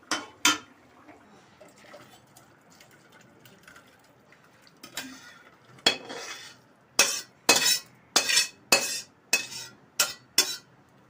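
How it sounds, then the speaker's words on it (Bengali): Cooked paneer butter masala is scraped from the pan into a serving dish: a few early clinks, then a rapid run of sharp metallic spoon-on-pan knocks and clanks toward the end, close and fairly loud. "এবার আমার এই রান্না হয়ে গেছে, এবার আমি ঢেলে দেবো।"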